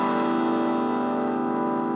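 A sustained, distorted electric guitar chord rings out steadily through a converted Heathkit T4 tube amp at 80% volume, thick and gritty at the edge of breakup, with no voices.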